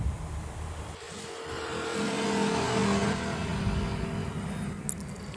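Rough-running Yamaha NMAX New motor scooter engine idling with a steady low drone and a faint uneven knock, loud and close, with no voices.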